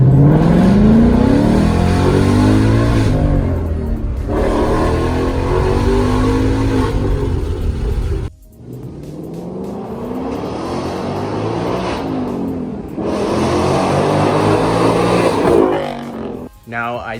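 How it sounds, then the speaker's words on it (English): A Ford Mustang with its active exhaust in track mode revs through two loud, sustained pulls, each climbing and falling in pitch, separated by a brief drop to near idle, with the engine roaring close by. "I'm gonna show you guys what a pull sounds like with the exhaust, the active exhaust"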